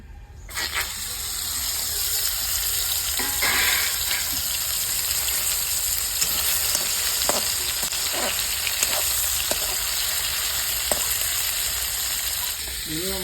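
Fish pieces coated in turmeric slide into hot mustard oil and sizzle loudly and steadily, a close, continuous frying hiss broken by a few sharp spatters and utensil taps, with no talking.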